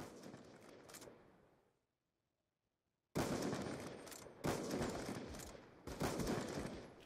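Sniper rifle gunfire in Call of Duty: a few loud, sharp broadband blasts with ringing tails, one of them following a short stretch of near silence, and the shots come a second or so apart.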